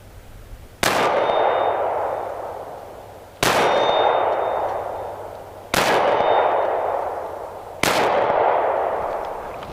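Four evenly spaced shots from a Beretta Nano 9mm pistol, each a sharp crack followed by a ringing metallic clang from a steel target that fades before the next, with no talking.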